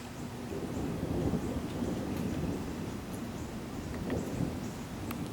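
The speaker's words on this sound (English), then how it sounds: "Well, we're watching the storm right now." A thunderstorm brings steady heavy rain with low rumbling thunder swelling in the background. The wash of sound is continuous and fairly soft, with no voices.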